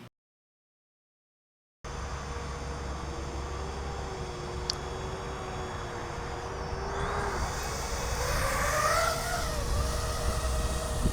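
An ATOMRC AUK FPV drone flies outdoors on a very windy day, giving a steady whirring motor drone with rising and falling pitch over heavy wind noise after a brief silence.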